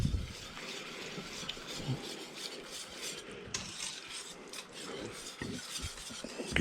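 Apple butter is stirred in a cooking pot with a utensil, giving quiet, steady scraping and rubbing with a few soft knocks against the pot, without talk.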